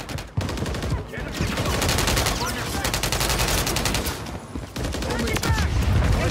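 Dense, loud automatic gunfire from the Call of Duty HQ video game, rattling in rapid sustained bursts close by, with brief gaps near the start and just before the final stretch, while faint game voices sit under the shooting.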